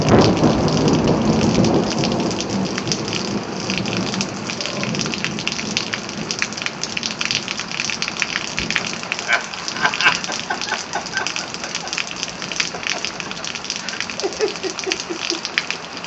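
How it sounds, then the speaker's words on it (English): A heavy thunderstorm in Yakima, with loud, steady rain pouring down and thunder rumbling through it, the downpour dense and continuous with no voices. "This is one humongous storm."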